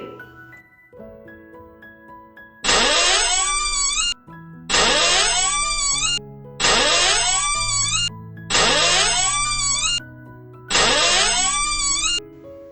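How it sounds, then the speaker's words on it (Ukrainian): Five long, creaky door groans follow one another at a regular pace, loud and near, with soft music playing underneath. "Скільки разів скрипіли двері?"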